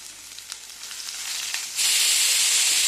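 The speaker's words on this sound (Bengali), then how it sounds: "এখানে তেল গরম হয়ে গেছে, দিয়ে দিলাম পেঁয়াজগুলো।" Sliced onions hit hot oil in a pan: a quieter crackle first, then a sudden loud, bright sizzle that surges up and holds steady to the end.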